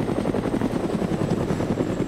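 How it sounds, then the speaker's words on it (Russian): Helicopter flying overhead in the video game DayZ, a steady loud rotor chop and engine drone that holds without a break for the whole stretch. "Вертолет."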